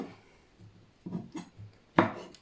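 A few soft knife cuts through mushrooms, irregularly spaced, land on a board, ending in one sharper, louder chop.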